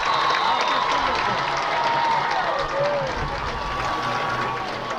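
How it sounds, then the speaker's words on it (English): Crowd cheering at a high school football game, Lincoln vs SPASH, a steady, distant roar of spectators filling the stadium, with a whistle-like tone and announcer talk faintly present. "You can hear the crowd."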